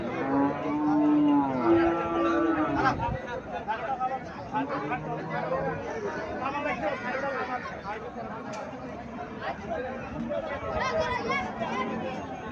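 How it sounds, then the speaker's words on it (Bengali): Haryana breed cow and calf at a cattle market, with two drawn-out moos early on followed by a steady hubbub of nearby people talking and crowd chatter. "হরিয়ানা জাতের দেখা যাচ্ছে বাছুরটা"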